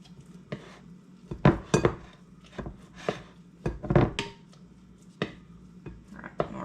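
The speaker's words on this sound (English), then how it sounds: "I'm just pushing this butter together so that it'll be one solid piece of butter" Homemade butter is pressed together in a bowl with a utensil while buttermilk drains, producing irregular sharp clacks and knocks of the utensil against the bowl with soft squelching between them, close and with no talking.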